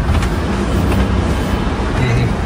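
Car driven by dad: a steady, close engine and road rumble with interior hum runs throughout, under faint background voices.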